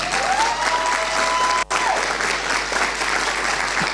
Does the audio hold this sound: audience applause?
yes